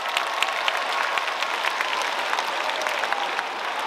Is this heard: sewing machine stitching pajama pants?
no